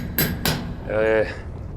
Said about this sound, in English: She continues hammering at the object that she's holding, glowing hot metal.